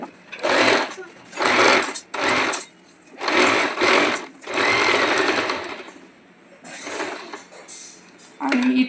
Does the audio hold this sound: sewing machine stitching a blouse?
yes